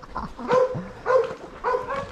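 Large dogs bark in a rural valley, three separate bursts of deep, throaty barking spaced evenly about half a second apart, fairly close and clear.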